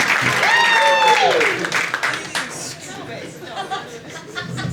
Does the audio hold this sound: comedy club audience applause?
yes